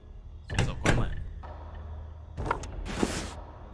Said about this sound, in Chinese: 随手关门。